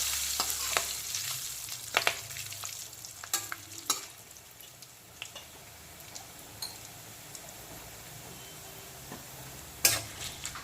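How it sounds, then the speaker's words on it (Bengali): Chopped onions going into hot oil with whole garam masala, bay leaf and cumin seeds for a village-style country chicken curry, a soft steady sizzle broken by sharp spatula clinks and stirring scrapes. "এখন দিয়ে দিচ্ছি পেঁয়াজ কুচি"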